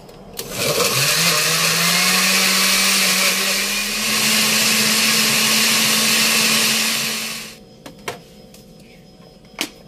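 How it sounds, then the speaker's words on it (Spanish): A blender purees tomato, jalapeño, oregano and apple vinegar for a chicken dish. It roars loudly and steadily for about seven seconds, then cuts off, leaving a few faint clunks. "Lo vamos a llevar a licuar."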